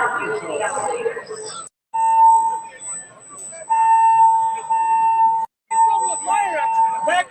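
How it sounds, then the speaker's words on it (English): A loud, piercing fire alarm in a wrestling arena sounds in long steady electronic tones broken by brief gaps, with crowd noise and voices under the early part and again near the end. "Fire alarm!"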